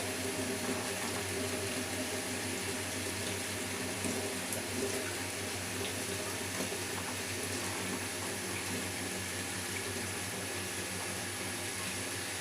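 Steady, continuous rush of running water from a tap fed by a Grundfos twin impeller regenerative booster pump at 3.0 bar, even and unbroken throughout, with no voices.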